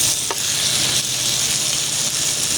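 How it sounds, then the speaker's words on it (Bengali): Potato, eggplant and hilsa fish curry with salt and turmeric fries in a pan, giving a loud, continuous close sizzle with faint stirring underneath and no talking. "আমি লাল লাল করে ভেজে নেব। তরকারি আমি নেড়ে দিলাম।"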